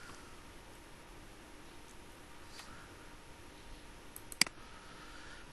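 Computer mouse clicks at a desk during a screen tutorial: a faint click, then one sharp, distinct click a couple of seconds later, over a quiet steady hiss.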